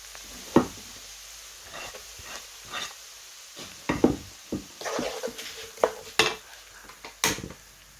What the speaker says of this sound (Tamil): வெங்காயம் பச்சை மிளகாய் எல்லாத்தையும் போட்டு வதக்கணும்